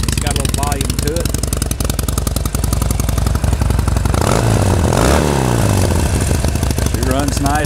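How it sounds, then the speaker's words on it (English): Harley-Davidson Sportster 72 motorcycle idling through its factory exhaust, a loud, close, throaty loping rumble with steady rapid pulses and a brief rev, while someone talks over it. "I believe that's the factory exhaust. It sounds kind of like the baffle's been taken out. It's got a little volume to it."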